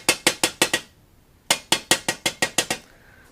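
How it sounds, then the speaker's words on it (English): Two quick bursts of light, sharp metallic taps from the rounded side of a ball peen hammer on the exhaust of a 1976 Honda MR175 Elsinore, about five then eight strikes in steady rhythm, each ringing briefly, with a short pause between groups. "I used the rounded side of the hammer. So just light taps."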